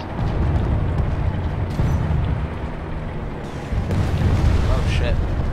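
Grenade explosions in a first-person shooter battle set in an enemy-occupied base, a dense, rumbling boom and blast roar filling the whole stretch, loud and continuous with a brief dip midway and a renewed surge, while a player's voice talks over it.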